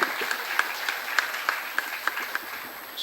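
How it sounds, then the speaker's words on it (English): Applause from an audience honouring students at a school award function, a steady patter of many hands clapping for about three seconds, close and fairly loud with no talk over it. "We should give them a round of applause."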